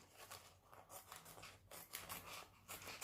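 Scissors snip through a thin plastic bag up close, a few quick crisp cuts with rustling and crinkling of the plastic between them, with no talking.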